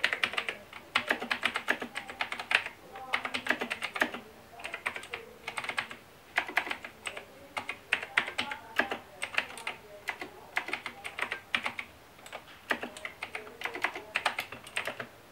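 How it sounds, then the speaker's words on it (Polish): Typing on a Razer full-size mechanical keyboard with clicky switches: a close, steady stream of crisp key clicks in uneven bursts, heard alone without any voices. "Mówiąc o switchach klawiatury, posłuchajcie, jak ona pięknie klika."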